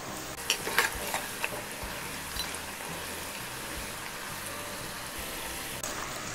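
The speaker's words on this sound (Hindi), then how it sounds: "अब मैं इन चनों को पलट देती हूँ और इसे मैं मीडियम गैस पे भुनूंगी जिससे कि ये क्रिस्पी बने।" Chickpeas roast and sizzle in a pan over a medium gas flame, a steady, soft crackling hiss with a few sharper clinks of stirring near the start.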